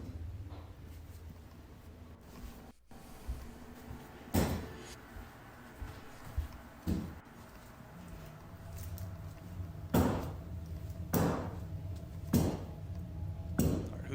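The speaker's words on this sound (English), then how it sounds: "Who's knocking on the door?" Sharp knocks on a door in a quiet house at home: one solid knock, then a quicker cluster of several raps near the end, fairly close and alone without talk.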